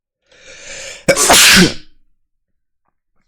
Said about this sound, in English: I gotta sneeze so badly.